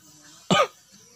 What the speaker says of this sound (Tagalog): Ubo ng ubo to eh.